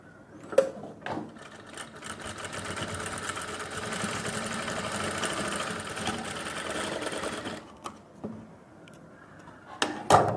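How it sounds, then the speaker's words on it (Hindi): A sewing machine stitches elastic onto ladies' pants, running in one steady, close whirring burst for several seconds before stopping, with a few handling knocks on either side. "इसको बस यहाँ पर टाँके को लगाएंगे"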